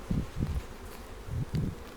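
Honeybees at a hive, worker bees mixed with larger male drones, hum in low, wavering bursts that swell and fade in a few close passes against a quiet background.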